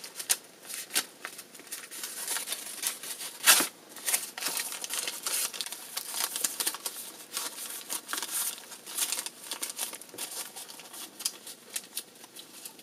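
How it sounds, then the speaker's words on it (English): Paper leaves for a fall garland are folded back and forth, making soft crinkling and rustling in irregular bursts, close and fairly quiet throughout. "Also fold the leaves back and forth like this to give you more smaller veins"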